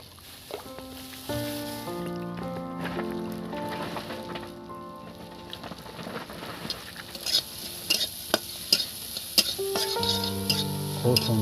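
Chopped ginger and green chillies frying in hot oil for a white potato curry, a soft sizzle that builds under clinking utensil taps and scrapes, with melodic background music throughout.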